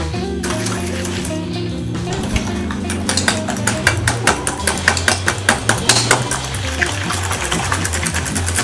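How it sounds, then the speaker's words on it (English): Egg yolks and sugar whisked together in a bowl, a run of sharp, rhythmic clinks from the whisk striking the bowl, steady and close, over a low background hum and music. "Now in another bowl, we'll mix the egg yolks"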